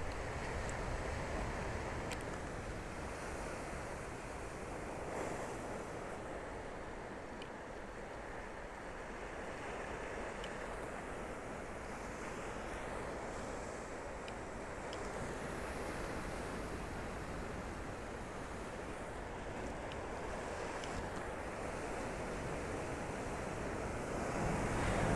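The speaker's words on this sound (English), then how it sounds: "some nice silky water coming in over the rocks" Ocean waves wash in over the rocks at Laguna Beach, a continuous broad roar of surf mixed with wind buffeting the microphone, swelling slightly toward the end, with no voices.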